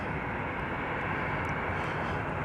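A Delta Airbus A319 airliner taxiing at DFW Airport, a steady broad jet-engine rumble with no breaks, moderately loud and continuous.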